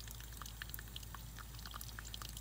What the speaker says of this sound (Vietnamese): mình tưới nhỏ giọt theo kiểu của mình á